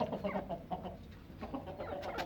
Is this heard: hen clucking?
yes